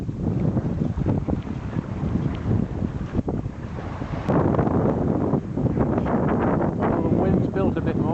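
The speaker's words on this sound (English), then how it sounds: "So wind's picked up quite nicely." Strong wind buffets a sailboat under sail at sea with the motor off, a loud, steady rushing roar with gusty microphone rumble and water noise, while a voice talks over it.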